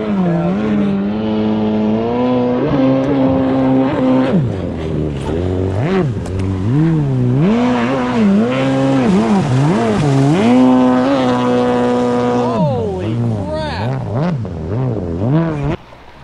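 A jet ski engine, likely a 440, runs on the water, its pitch climbing and dropping repeatedly through throttle changes, loud and close, cutting off abruptly at the end, with voices talking briefly over it.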